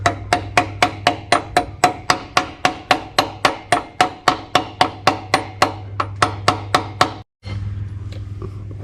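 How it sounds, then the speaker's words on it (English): Rapid, evenly spaced metallic taps from a hammer on a Toyota Hilux clutch part, about three per second, ringing sharply against a low hum before stopping abruptly. "Tap with a hammer, don't hit the black bit"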